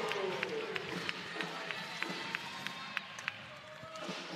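Crowd at a college volleyball match in the Convocation Center, a steady murmur of spectators with regular sharp squeaks and taps from the court, under a commentator's voice.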